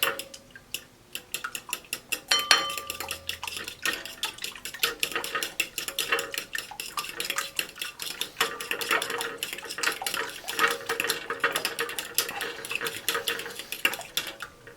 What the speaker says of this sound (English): since I don't have a whisk, I'm going to beat these eggs like they owe me money